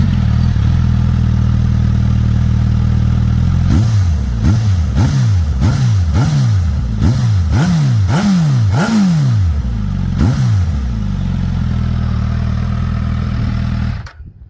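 Suzuki GSX-S motorcycle engine idling loudly up close, then revved in a rapid series of about ten sharp throttle blips that rise and fall, settling back to a steady idle before cutting off.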